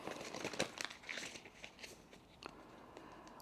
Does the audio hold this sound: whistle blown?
no